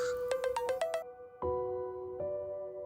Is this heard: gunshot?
no